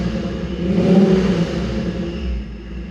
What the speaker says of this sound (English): Sounds like an angry little truck. Angry little shop truck.